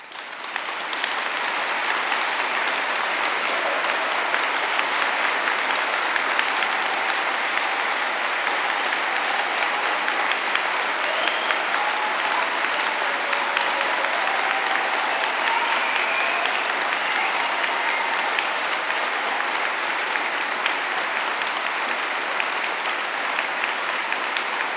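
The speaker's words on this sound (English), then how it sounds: "give all of our graduates a round of applause" A large audience at a London degree ceremony applauds its graduates with dense, sustained clapping that stays loud and even for over twenty seconds, with faint murmuring underneath.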